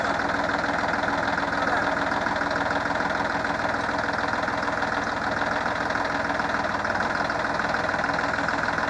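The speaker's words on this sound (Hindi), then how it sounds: "तो किसान भाइयों अभी चलाते हैं ट्रैक्टर को" A Massey Ferguson 9500 Smart tractor with 12 forward and 4 reverse gears runs at a steady low speed, its diesel engine a loud, constant, slightly knocking drone close by.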